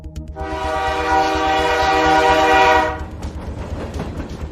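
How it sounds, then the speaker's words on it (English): A train on a circular track lets out a long, loud horn blast over rumbling wheels as it starts moving, and the horn fades to a rattling clatter of the cars. "The train kicks into gear and starts moving its way down the circular track"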